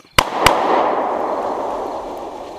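Two sharp gunshots crack about a quarter second apart in an audio drama, loud and close, followed by a long reverberant roar that slowly fades.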